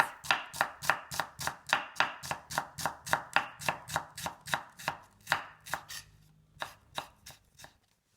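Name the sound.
knife slicing onion very thinly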